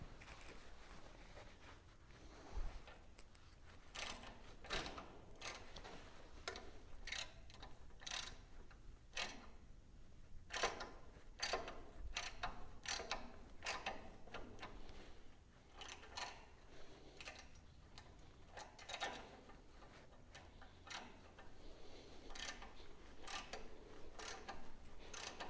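A hand tap cuts threads into a steel transmission mount for a 1951 Chevy truck, giving quiet rhythmic ratcheting clicks and creaks that repeat in short bursts, faint and close with no talking.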